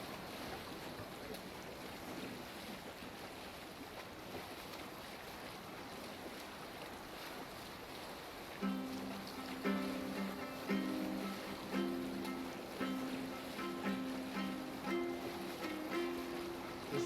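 Sailing ship crossing open sea in Assassin's Creed Valhalla, with a constant wash of wind and waves; partway through, a steady rhythmic pulse of music or oars joins over the rushing water.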